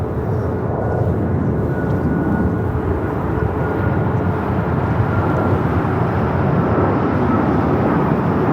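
American Airlines Boeing 737 MAX 8 jet taking off at Los Angeles LAX, a loud, steady broadband engine roar that holds constant and close throughout with no talk.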